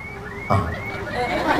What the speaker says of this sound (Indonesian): Motor siapa bunyi?